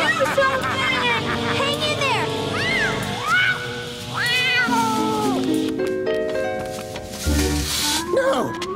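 A cartoon cat meows and caterwauls repeatedly in loud, drawn-out, wavering cries, mixed with other voices and background commotion.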